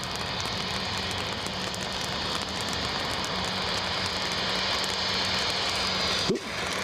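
Loganair aircraft taxiing at a wet Edinburgh Airport, a steady broadband engine roar with a constant high whine held at moderate distance, ending in a brief thump near the end.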